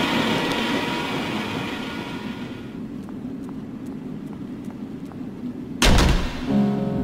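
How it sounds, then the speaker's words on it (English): In a post-apocalyptic video game, a low, steady rumble like an approaching train fills the first seconds, then fades to a hum before a sudden loud burst near the end. "Like the incoming sounds of a train!"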